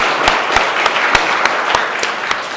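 Church congregation applauding together at a first-anniversary Sunday service in Jeonju, with dense sustained clapping and a few sharper claps standing out, filling the room steadily throughout.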